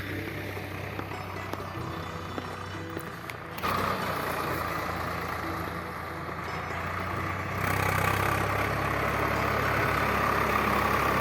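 A tractor ploughing fields in the hill villages of the Jalli area drones steadily and close by, its engine rumbling continuously and growing slightly louder toward the end, with no talk.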